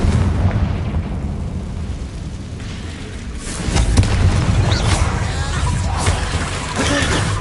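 Confringo explosive spell blasts going off in the video game Hogwarts Legacy, dull booming bursts with a rise in intensity midway, mixed into dense game noise with a voice talking over it.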